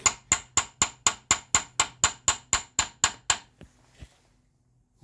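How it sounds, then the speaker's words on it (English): A hammer taps steadily on a 1941 Buick transmission part, about a dozen sharp, evenly spaced metallic strikes up close, then two softer taps before it goes quiet. "make sure and hit your finger with the hammer there, Connor."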